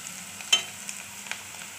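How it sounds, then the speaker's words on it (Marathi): Vegetables and carrot being sautéed in a pan for paneer masala, with a faint steady sizzle and a few soft stirring scrapes, quiet and close. "सगळं चांगलं परतून घ्यायचं."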